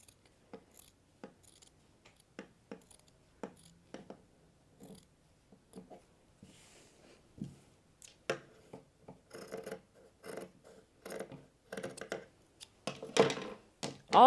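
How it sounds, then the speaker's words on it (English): Scissors snip through a shirt sleeve along a drawn line, a run of short, close, crisp cuts with pauses between, growing denser and louder toward the end. "Now I'm going in to the other sleeve and just cutting along that line"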